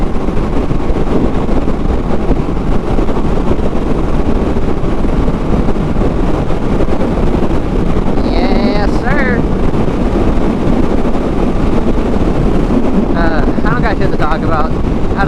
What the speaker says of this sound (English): It is windy, my guys. It is windy.